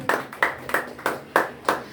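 A church congregation claps in steady unison during a Sunday service, six evenly spaced claps in quick rhythm, with a reverberant indoor feel.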